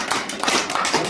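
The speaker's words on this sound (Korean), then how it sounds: "지금 이때 박수 한번 쳐줘야지" A handful of hands clap in a short, quick burst of sharp, close claps from a small audience at a business presentation.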